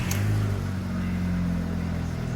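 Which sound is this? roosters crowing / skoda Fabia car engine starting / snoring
skoda Fabia car engine starting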